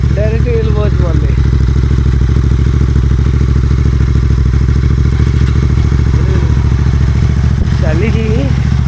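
A motorcycle engine runs loud and close with a steady idling chug throughout, on a riding trip, while a voice talks briefly over it now and then.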